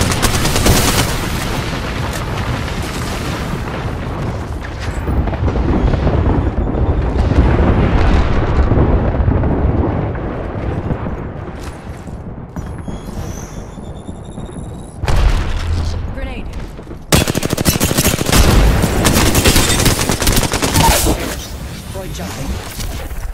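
Gunfire in Apex Legends: repeated close bursts of automatic weapon fire and heavy booming impacts, with rapid crackling volleys and sharp cracks through much of the stretch, mixed with game voice lines.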